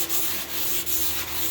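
Sanding of Evercoat Optex pink 4:1 high-build polyester primer on a car panel, heard as a steady, close abrasive rubbing with a few brief dips where the strokes change direction, and no talk.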